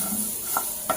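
Onions and green chilies roast in a pan, giving a continuous soft sizzle with a couple of brief stirring clicks, heard alone and close.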